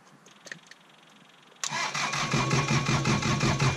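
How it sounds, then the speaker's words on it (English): A tractor engine cranks and catches after a quiet start, then settles into a loud, steady rumbling idle close by. "so I'm going to take the tractor"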